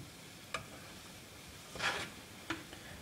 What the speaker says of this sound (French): nous continuons à remuer notre mélange jusqu'à ce que le chocolat soit totalement fondu